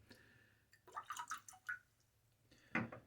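Water drips and trickles from a soaked shaving brush in a few faint, close, irregular droplets and splashes, with one louder splash near the end, in a quiet bathroom.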